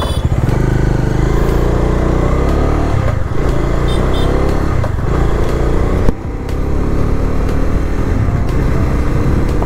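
A motorcycle on a ride from Sambalpur to Burla, recorded up close from the bike, with a loud, continuous engine drone and heavy wind rush as it rides along.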